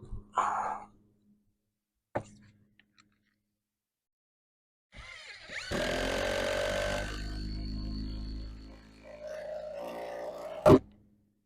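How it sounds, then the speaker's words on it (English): A loud, sustained whirring roar of an impact driver driving into a roof rafter for a few seconds, preceded by a couple of sharp knocks and ending with a clack. "I'm just drilling in these bases"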